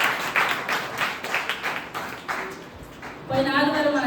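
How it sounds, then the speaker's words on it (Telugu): A church congregation at a Sunday service claps hands in a quick, uneven patter of many palms, moderately close, with a voice speaking over the clapping and then singing near the end. "చప్పట్లు కొడదాం."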